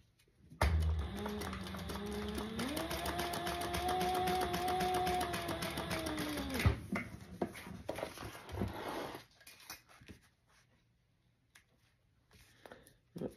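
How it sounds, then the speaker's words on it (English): A sewing machine stitches landscaping fabric in one steady whirring run of about six seconds, its pitch rising as it speeds up, then stopping, followed by quiet handling clicks and rustles. "I am going to stitch right below that first slot"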